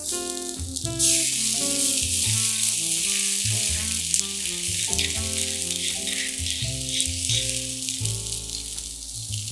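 Chopped ginger and sliced garlic sauté in a hot pan, a steady bright sizzle running throughout over a layer of music, with no one talking.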